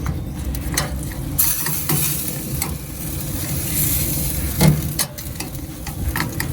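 A frozen cowboy ribeye steak hisses and sizzles steadily on a Pit Boss Platinum grill after being flipped, with scraping and clinking from the spatula and a sharp knock partway through.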